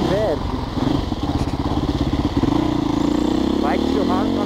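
A Husqvarna 510 SMR motorcycle engine thumps in a rapid, pulsing idle and then rises in revs, loud and close, while someone talks over it.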